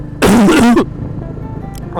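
A single sharp cough or throat-clearing burst up close, followed by quiet room noise and a faint sound near the end.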